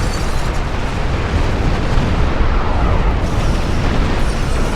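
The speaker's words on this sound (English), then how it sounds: "I'm going to like that explosion effect," Spaceship explosions in the space combat game Star Trek Online, a continuous loud roaring boom and rumble that stays dense and steady throughout with no voices.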